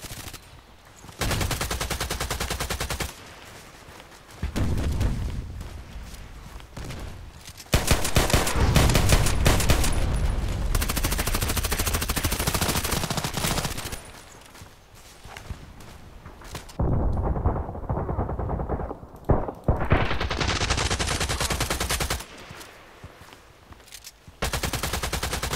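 Gunfire in the shooter game Contract Wars: sustained bursts of automatic shots, broken by short pauses and one sharp burst midway, loud and close throughout.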